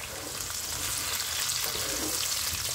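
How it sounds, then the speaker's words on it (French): Onions frying in a pan give a steady, close sizzle with a dense crackling hiss that holds evenly throughout, with no voices. "je ne laisse pas cuire très longtemps les oignons"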